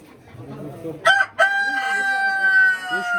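A rooster crows once at a poultry market, loud and close, its long drawn-out call holding steady over low background murmur.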